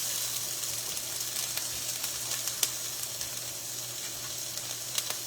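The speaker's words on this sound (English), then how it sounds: "the oil is dancing around my pan. Now I'm going to start with the carrots and peppers" Carrots and peppers fry in hot oil in a pan, giving a soft continuous sizzle with scattered small pops and crackles, close but fairly quiet and steady, with no voices over it.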